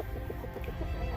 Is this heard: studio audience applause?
no